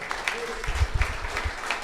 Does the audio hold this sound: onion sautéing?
no